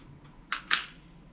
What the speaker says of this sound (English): this is the last magazine that I'm gonna shoot with this guy